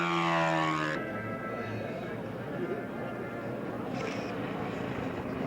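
A scale model airplane comes in to land at an aircraft show, its engine droning steadily at close range after an opening whine fades, with people talking over it.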